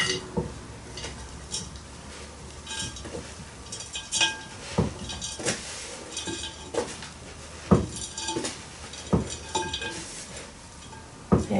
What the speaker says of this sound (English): I've got some ordinary multi-purpose compost here, so I'll just fill my pot with that